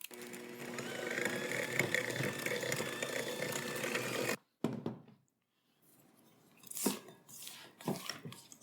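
Electric mixer whirring steadily through gluten-free pineapple upside-down cake batter with eggs and vanilla, loud and continuous for about four seconds, then cutting off abruptly, followed by quieter scraping and clinking.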